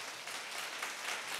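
Church congregation clapping at a Sunday youth service in Pune, a soft, steady wash of many hands heard from some distance, continuous and fairly faint throughout.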